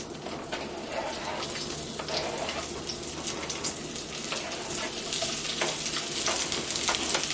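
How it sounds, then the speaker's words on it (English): Sliced zucchini dropped into an oiled pan that was just used for chicken, frying with a steady, bright sizzle that swells slightly as the pieces settle and are spread out. "So now to the same pan, I'm going to have enough oil, so I'm going to add my zucchini now"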